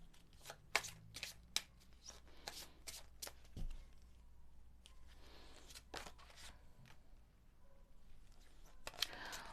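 A deck of fortune-telling cards is shuffled by hand in quick, faint riffling bursts and taps, stopping and starting over several seconds, with no talking.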